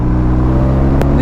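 A BMW R 1250 RT motorcycle engine drones loud and close under hard acceleration, a dense steady roar with a brief sharp click near the end.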